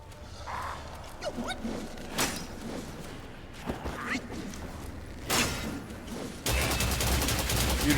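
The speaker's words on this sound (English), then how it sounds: "Who's shooting at me?" Gunfire is aimed at the player in the game Black Myth: Wukong. Several sharp shots and bursts come in irregular clusters amid thumps and game noise, ending in a loud, sustained burst of fire.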